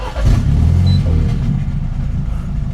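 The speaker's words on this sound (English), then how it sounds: "I'm gonna give you guys our startup now." A car with a modified exhaust starts up, then settles into a loud, deep, rumbling idle close by, with no talking.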